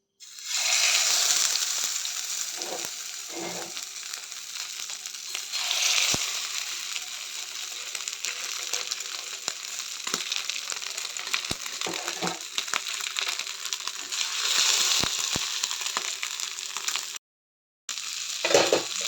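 Mackerel (bangude) frying in a pan, a steady hiss of sizzling oil with occasional stirring and scraping, fairly close, continuing through a brief gap near the end.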